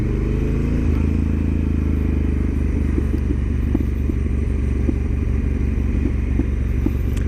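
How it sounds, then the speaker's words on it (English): Honda Africa Twin DCT motorcycle engine braking down a 20% downhill grade in Sports 3 mode, a steady close low engine drone with wind rush and faint clicks throughout. "So you still do get engine braking on a DCT bike."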